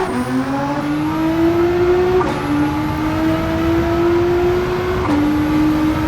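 Tuned 933 bhp Nissan GT-R in Gran Turismo 7 revving hard through the gears, a loud sustained engine whine climbing steadily with two quick shifts that drop the pitch before it rises again.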